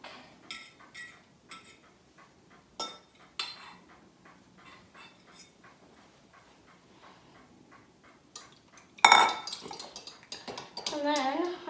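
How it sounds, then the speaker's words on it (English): A whisk clicks rapidly and steadily against a bowl while beating eggs into milk for hot cross buns, with a person talking near the end. "And then I'm going to whisk again until it's nice and a nice peachy colour."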